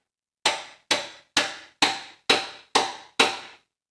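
Seven sharp metallic hammer strikes drive a tool into place on a Citroën C5, landing in a steady, even rhythm, each ringing briefly before the next blow, close and loud with nothing else heard.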